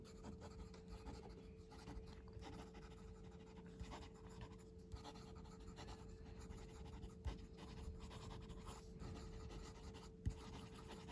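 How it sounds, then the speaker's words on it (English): A Benu Euphoria fountain pen with a Schmidt nib writes quickly on paper, producing a faint, continuous scratchy scribble of rapid strokes close to the listener, heard alone. "Quick writing."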